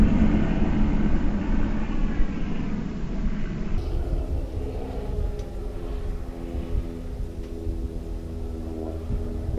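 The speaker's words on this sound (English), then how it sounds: "Airplane in the background there" A low, steady airplane drone rumbles in the background throughout, a distant engine hum with wind noise over it and no talking, at a grass field.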